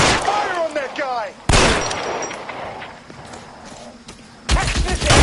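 Gunshots ring out in the L.A. Noire shootout, a few loud sharp cracks with echoing tails, separated by stretches of quieter ambience and a voice.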